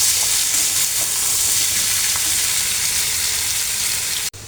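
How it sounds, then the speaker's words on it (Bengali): Jackfruit seeds fry in a pan with a loud, continuous, even sizzle and hiss, broken only by a brief drop near the end; no one speaks. "আমি কাঁঠালের বীজটা এখানে 5 মিনিটের মতো ভেজে নেব।"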